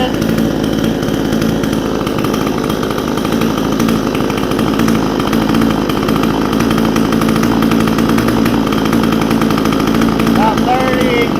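A Vevor 62cc two-stroke engine runs at a steady, loud, buzzing idle for the whole stretch, close up, with a faint voice over it near the end.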